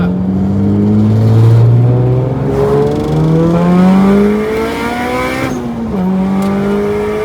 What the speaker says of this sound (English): I kind of want to do a second gear hit and a third gear.